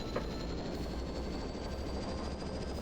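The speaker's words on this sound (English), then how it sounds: "You can hear that helicopter taking off there." Helicopter taking off in the 2001 video game Operation Flashpoint, a steady, loud rotor and engine rumble that fills the clip continuously with a low drone and no voices.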